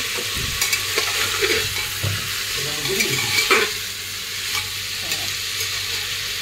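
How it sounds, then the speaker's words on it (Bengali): Pav bhaji with masala being stirred and fried in a pan, a steady loud sizzle with a few scraping knocks of the spoon early on, no talking. "পাও ভাজি মশলা দিয়ে এর মধ্যে একটু নেড়ে নাড়ে নিচ্ছে, ভেজে ভাজে"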